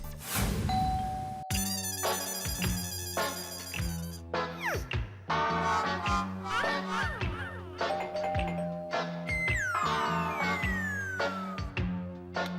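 A doorbell rings twice at an apartment door in a Hindi sitcom, its bright tones standing out against a busy, continuous music bed.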